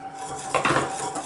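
Crème anglaise (vanilla custard) poured back into the saucepan used to boil the milk, with a clatter of utensil against the pan and a brief burst of pouring around the middle, close up with no talk.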